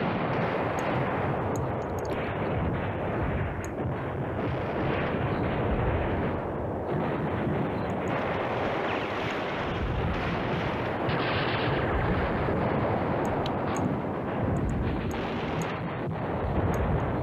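Continuous heavy gunfire and booming artillery from a Command Ops 2 WWII battle at Manhay Crossroads, a dense, unbroken roar of shots and blasts with no talking.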